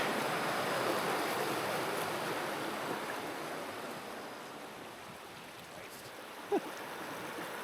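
A small stepped waterfall on a wilderness canoe route in Temagami produces a steady, broadband rushing wash of water that slowly fades a little, heard outdoors at moderate distance.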